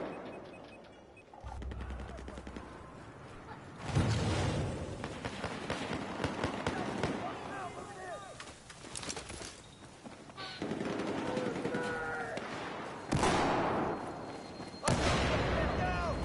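Gunfire bursts from a Battlefield 4 online match crackle in repeated clusters with loud onsets, mixed with game noise and someone talking over much of the action.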